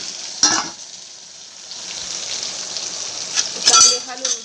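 Sliced okra frying with garlic in a hot pan, a steady sizzle with a few sharp scraping clinks as it is stirred, fairly close and loud.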